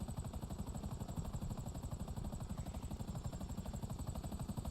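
A helicopter flies in GTA Online, its rotor chopping in a steady, fast low pulse with a constant engine whine above it. The sound stays fairly loud and close throughout, with no voices.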